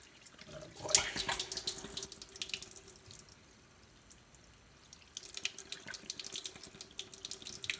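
Tap water splashing into a bottle to rinse out soap suds, a loud hissing gush that fades to a quiet trickle midway and then surges again, no voices.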